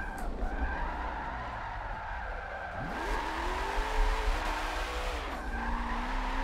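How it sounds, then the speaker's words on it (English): A car drifting in the Forza Motorsport 7 racing game, with a steady engine drone and sustained tire squeal that rises and shifts in pitch as the car slides. "This thing just slides so nice."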